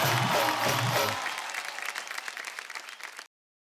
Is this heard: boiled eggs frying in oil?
no